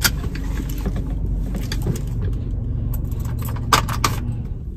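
Keys jangle in a handbag pouch at a restaurant table, small metallic clinks scattered through a steady hum of room and traffic noise, with one brighter rattle near the end.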